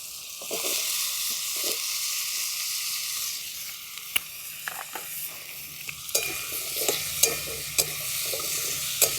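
Diced papaya and pumpkin fry in a pan with a steady hiss. A spatula stirs and scrapes through the pieces at irregular intervals, with occasional sharp taps, close up and without any voices.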